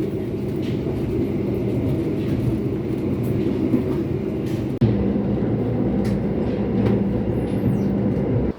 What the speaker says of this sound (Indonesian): Perjalanan saya naik kereta api Argo Wilis sekarang sudah tiba di stasiun Banjar